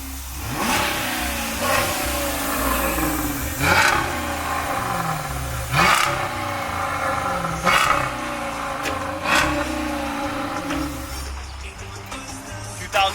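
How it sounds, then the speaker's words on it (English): A 2013 Dodge Charger R/T with a 5.7L V8 and mid mufflers deleted revs repeatedly, sharp throttle blips roughly every two seconds rising over a deep, burbling idle, close and loud. "let's just see how the mid mufflers sound"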